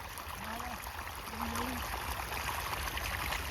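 Irrigation water flows along a field channel with a soft, steady trickling rush, fairly faint and continuous, with brief low voices in the background.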